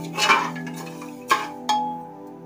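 A spoon stirring sugar syrup in a pan for rasgulla, giving a few distinct metallic clinks and scrapes with ringing tones, close and moderately loud, with no voices.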